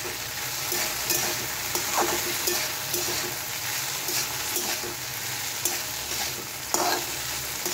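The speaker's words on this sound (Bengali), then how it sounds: "আজকের রান্নাটা ভেন্ডি ভাজা দিয়ে শুরু করব" Okra (bhindi) frying in a pan while being stirred, a dense close sizzle with regular scraping strokes of the spatula recurring every second or so, loud and steady with no voices.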